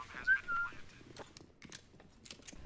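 Short whistles sound in a video game match, a faint high whistle near the start followed by scattered soft clicks and thuds, quiet and distant.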